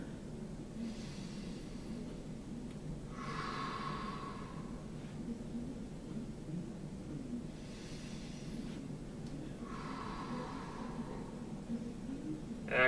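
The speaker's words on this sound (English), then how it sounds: "and we're breathing, good." Slow, audible breaths during a seated hamstring stretch, with two or three long inhale-exhale cycles over a quiet room background.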